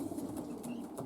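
Racing pigeons coo softly in an aviary loft. The low murmuring continues under faint background noise, with a few brief higher chirps.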